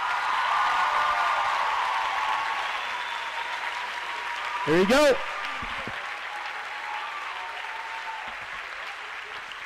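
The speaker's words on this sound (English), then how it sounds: "So please, a round of applause" An audience at a high school senior recital gives sustained applause that fades gradually. A brief spoken remark cuts in partway through.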